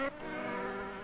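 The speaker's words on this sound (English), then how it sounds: "Here come bees." Bees buzzing in the Adiboo children's game, a steady, close, continuous insect drone lasting about a second with no talk over it.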